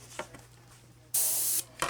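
A spray paint can releases one loud, close hiss lasting about half a second, framed by a few faint clicks and a short second spurt at the end, with no voices.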